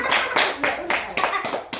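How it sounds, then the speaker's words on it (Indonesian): Children applaud in a classroom with a quick, rhythmic run of about seven claps, close and fairly loud, with voices mixed in. "Terima kasih Linca, beri tepuk tangan untuk teman-teman"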